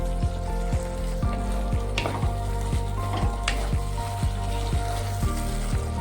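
Mustard paste and chopped tomatoes sizzle steadily in a pan for a mustard rohu fish curry, with a loud continuous fry and regular scraping strokes of a spatula, no voices.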